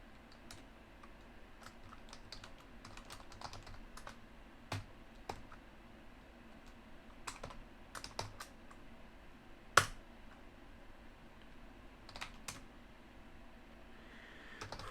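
Keys clatter on a computer keyboard while a program is entered into an RC2014 retro computer. The keystrokes are quiet, close and irregular, with occasional sharper taps, and no one speaks.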